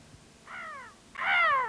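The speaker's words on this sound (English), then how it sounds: "a big black crow was flying over the fields" A crow caws twice over open fields, a shorter call followed by a louder, longer one, clear and alone with no speech.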